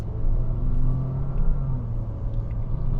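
A Honda HR-V S with a non-turbo CVT accelerates, its engine a steady low rumble and hum inside the cabin with slight swells as it shifts up and down, no talk.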